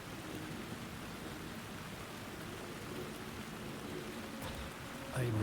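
Steady rain in the video game Alan Wake 2, a soft continuous hiss of falling drops on surfaces heard alone for several seconds, with a brief thump near the end.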